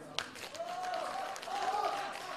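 Audience applause at a live launch event for a band's new song, with steady clapping mixed under voices and faint musical tones for a couple of seconds.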